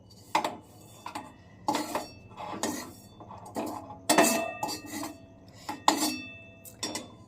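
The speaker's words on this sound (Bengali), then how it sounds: "একটু বেশি তেল হয়ে গেছে, তাই জন্য তেলগুলোকে ঝাড়িয়ে ঝাড়িয়ে নিচ্ছি" Fried potatoes shaken and tossed in a metal pan to drain off excess oil, producing about nine rhythmic scraping clanks of food against metal, close and fairly quiet with no talking.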